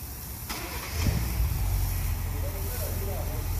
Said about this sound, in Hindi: जैसे कि आप देखते हैं मैंने इसके रिमोट से स्टार्ट किया गाड़ी को।